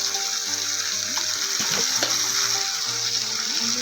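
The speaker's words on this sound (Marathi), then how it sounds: "तर आता आपण हे मिक्स करून घेऊया सर्व भाज्या" Vegetables for green pea pulao are stirred in a hot pan, giving a steady loud sizzle and frying hiss. Utensil scrapes and taps sound over it, with background music running throughout.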